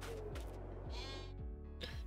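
Several sheep bleat in turn in Farming Simulator 22, nasal wavering cries repeating over a steady low background hum, fairly close and clear.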